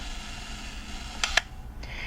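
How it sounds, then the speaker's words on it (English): A Yashica Minister-D camera with its self-timer engaged: a faint mechanical whir runs steadily, then two sharp close clicks of the shutter release sound in quick succession, followed by a softer click. "You just activate the self-timer, hit the shutter release, that starts the self-timer"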